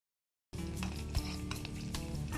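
After half a second of silence, curry leaves hit hot oil in a pan and set off a sudden loud, crackling sizzle that keeps spitting close by to the end, with no speech.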